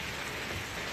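Steady rain falls during Hurricane Harvey flooding in Houston, a dense, even hiss of drops on surfaces that holds at a constant level throughout the short stretch, with no voices.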